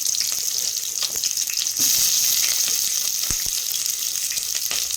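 Onions frying in hot oil for chicken biryani, a loud steady sizzle throughout with a few stirring knocks in the pan.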